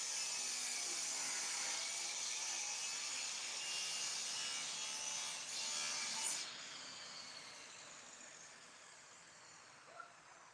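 Steady hand sawing through wood while building a chicken coop, a continuous rasping hiss heard from a short distance, fading toward the end.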